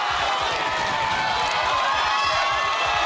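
Crowd noise at the 2011 World's Strongest Man heats, a steady loud roar of cheering spectators with a low rhythmic pulse underneath, sustained throughout without clear gaps.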